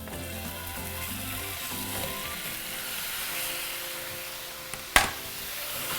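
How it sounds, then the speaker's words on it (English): Beef browning in a hot pan with a little oil and minced garlic for a teriyaki stir fry, a steady close sizzle and crackle that runs throughout, with one sharp clink of a utensil near the end. "And we're going to brown our meat."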